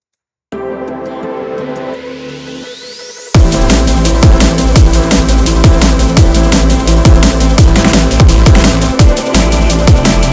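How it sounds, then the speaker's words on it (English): An instrumental drum and bass remix builds with a rising sweep over sustained pads, then drops into loud, driving breakbeats with heavy kicks and bass, no vocals, dense and steady to the end. "So without the vocals, the drop sounds like this."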